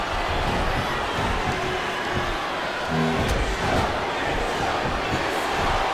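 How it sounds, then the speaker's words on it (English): An arena crowd in the WWE SmackDown vs RAW 2007 video game roars and cheers steadily, a dense, loud wash of voices with a brief swell midway that runs unbroken throughout. "This capacity crowd is making their opinions known tonight."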